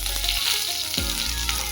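Dried red chilli, cumin and crushed ginger fry in hot oil for a dal vegetable curry, a loud continuous sizzle with a couple of soft stirring thumps, no voices.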